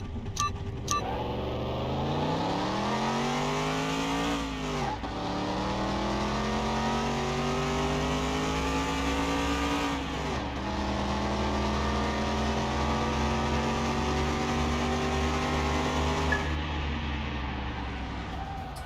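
Engine of a Ram 4x4 racing in Car Mechanic Simulator 21, a loud, close game-engine roar that climbs in pitch through three gear shifts, each with a brief dip before it rises again, with no talking.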